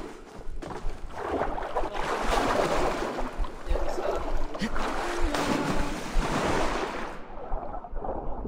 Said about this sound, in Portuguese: Agora a gente vai pular na água.